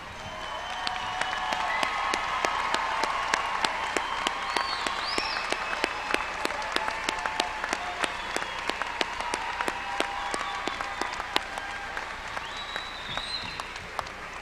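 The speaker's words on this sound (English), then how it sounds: "give them a round of applause for everything they've done this year" A large crowd at a Princeton 2017 graduation applauds the graduating seniors, steady dense clapping sustained throughout with sharp individual claps standing out near the listener.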